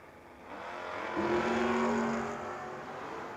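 A 5th gen Camaro drag race car roars down the strip, its engine swelling louder as it passes fairly close, then fading slightly, with a steady mechanical whine riding on top.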